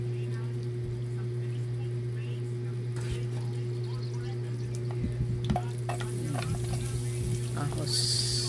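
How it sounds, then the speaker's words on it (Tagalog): Pork bones sauté in a pan for ginataang kalabasa, giving a steady, close sizzle over a low constant hum, with a few clattering stirs toward the end. "isusutay natin yung pork bones"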